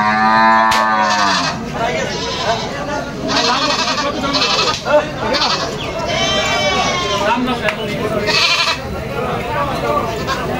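Cattle low repeatedly at a market where young calves are sold. A clear, drawn-out moo opens, with more lowing and bleat-like calls further back, over a steady crowd murmur and people talking nearby.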